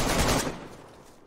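A burst of gunfire in the DayZ video game hits loud at first, then fades quickly into a decaying echo within about a second.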